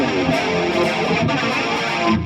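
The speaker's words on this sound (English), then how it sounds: "then I'll kick in like a heavy distortion" Electric guitar played through a heavy distortion effect on a Valeton GP-200X pedalboard, thick saturated chords ringing loud and sustained with brief choppy breaks.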